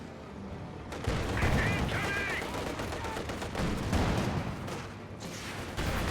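In a Company of Heroes 2 battle, an MG34 machine gun fires in dense rattling bursts amid other battlefield gunfire, sustained and fairly loud, with someone talking over it.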